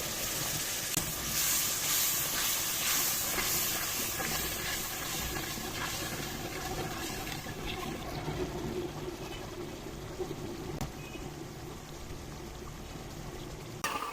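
Spices and yogurt frying in a pan for a tinda and mutton curry, a quiet, steady hiss and sizzle with faint scraping and stirring noises running continuously.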